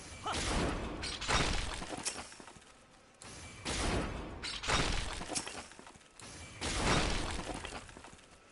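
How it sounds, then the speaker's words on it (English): Boulders cracking under heavy axe swings in Final Fantasy XIV, heard as four loud, crunching shatter bursts with gritty debris, each lasting about a second and separated by short pauses, with no talking. "My head's still ringing with the sound of cracking boulders."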